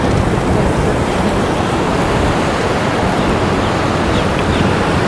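Ocean surf rolling in at Pompano Beach fishing pier, where surfers wait for waves: a continuous, loud, broad wash of breaking water and wind that stays even throughout with no voices.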